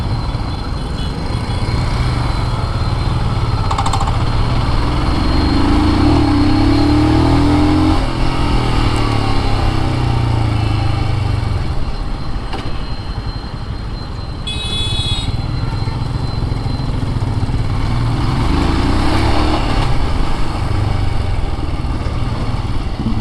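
A Royal Enfield Hunter 350 motorcycle's engine thrums continuously while being ridden, loud and close with steady rumble and wind, pitch shifting slightly as speed changes, faint voice now and then underneath.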